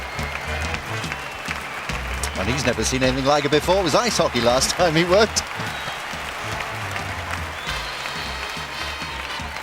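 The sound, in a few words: audience applause after a ballroom dancing final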